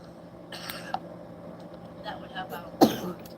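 A few short, harsh coughs break out against a quiet background, the loudest one coming near the end.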